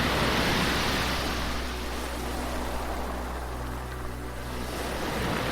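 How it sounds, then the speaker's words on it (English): Ocean surf rolls continuously onto a beach as the tide comes in, a steady broad wash of breaking waves with some wind, alone with no voices, evenly loud throughout. "waves crashing as you walk"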